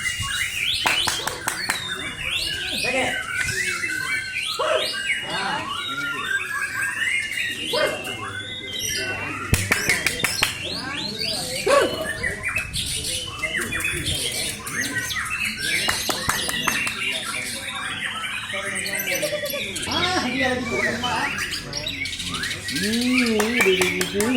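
Caged songbirds, murai among them, chirp and squawk densely at a Kicau Mania bird song contest in Meulaboh, a near, continuous tangle of calls with crowd voices and an occasional dog bark mixed in.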